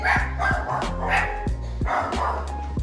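A dog barks repeatedly in short, loud bursts at close range, with a few yips mixed in and no talking.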